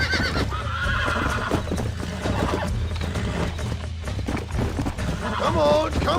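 In the Red Dead Redemption video game, a horse whinnies and its hooves clip-clop at a gallop, with a loud neigh near the end and a voice talking over the action.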